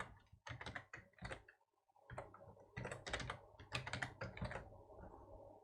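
Fingers type in quick bursts on a computer keyboard, with rapid key clicks that pause briefly and then resume, close and fairly quiet with no voices.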